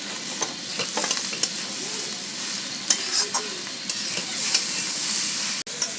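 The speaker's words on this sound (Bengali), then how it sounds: "টমেটো আর 2টো গোটা কাঁচা লঙ্কা দিয়ে এইবারে এটাকে ভালো করে কষে নেবো" Cabbage sizzles and is stirred in a hot pan with tomato and two whole green chillies, with steady frying hiss and scattered scraping clicks of the spatula, close up.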